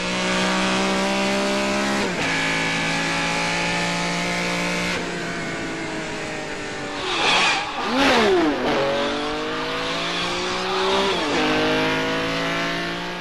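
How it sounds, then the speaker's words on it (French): A Ferrari engine recorded for the soundtrack of Claude Lelouch's short film C'était un rendez-vous, loud and close, with revs climbing and dropping at each gear change, then a sharp rev surge with tyre squeal before it pulls through more gears. "J'ai refait le parcours avec une Ferrari pour changer le son."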